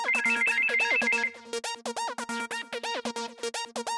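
A telephone rings loudly and repeatedly in a home, electronic ring bursts pulsing in a steady rhythm with no one answering, the tone shifting slightly partway through.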